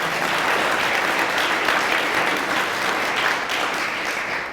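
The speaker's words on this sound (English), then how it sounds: "Let's give her a round of applause" Loud, sustained applause from an evening book-talk audience at a county history event, a thick, even roar of many hands clapping close by, with no pause.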